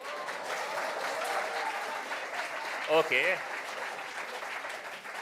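Student audience applauding a speaker at an international conference on multilateralism and the WTO held at JNU: dense, steady clapping fills the room throughout, with a single short spoken word briefly rising over it.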